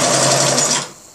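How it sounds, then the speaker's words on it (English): A sewing machine runs a quick burst of stitches on a fabric mini stocking for a farmhouse garland, a loud, close, steady whir that stops abruptly and leaves quiet hum, with no talk. "I'm going to do another few stitches"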